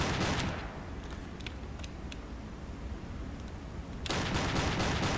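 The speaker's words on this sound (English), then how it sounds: "2 torpedoes wasted on this guy, and now all my deck guns" Submarine deck guns fire in the naval game Silent Hunter III, loud dense bursts of gunfire at the start and end with a quieter rushing, crackling stretch between them.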